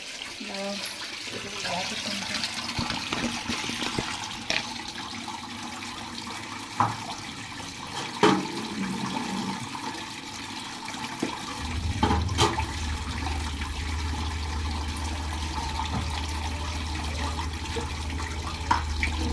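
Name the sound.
water washing a kitchen stove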